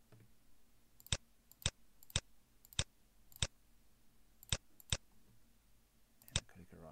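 A computer mouse gives about nine sharp, close clicks at irregular intervals against a quiet room background, with a faint voice near the end.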